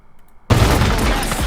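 Near silence broken by a sudden loud boom that rolls on as a dense, rumbling blast, from an explosion in the video game Far Cry 6.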